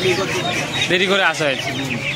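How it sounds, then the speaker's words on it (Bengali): Chickens, including large Chinese-breed birds, cluck and squawk at a busy hen market in Uluberia, their calls rising and overlapping continuously amid nearby market chatter. "এটা চীনে মুরগি আছে, এই বড়গুলো চীনে মুরগি আছে।"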